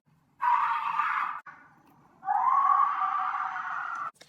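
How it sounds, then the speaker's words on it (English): Two long, shrill screams from a neighbor, the first lasting about a second and the second longer, separated by a brief pause, harsh and steady. "I'm gonna insert a clip of what it sounded like, the screams, right here"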